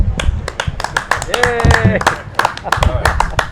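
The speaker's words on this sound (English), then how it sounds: "we're going to clap it up" A small group of people clap together at a Harley-Davidson 120 gathering, a short burst of sharp, close hand claps mixed with chatter and voices throughout.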